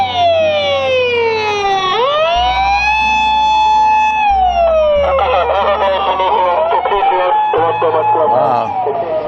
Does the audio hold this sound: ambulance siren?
yes